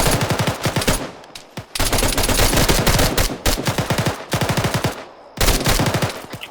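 Rapid automatic gunfire crackles in loud, sustained bursts during an Arma 3 multiplayer firefight in a military simulation, with short gaps between volleys.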